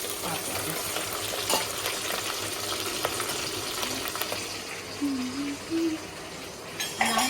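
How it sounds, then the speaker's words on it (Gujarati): Onions sizzle and fry in hot oil as a tempering for drumstick kadhi, with steady frying hiss and occasional stirring scrapes throughout, close and moderately loud with no talking. "હવે આપણે ડુંગળીનો વઘાર કરશું"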